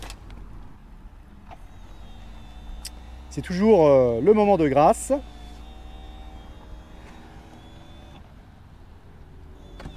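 Whirring electric motor sounds rising and falling for a couple of seconds as the soft top of a BMW Z8 V8 convertible closes, with someone speaking briefly nearby.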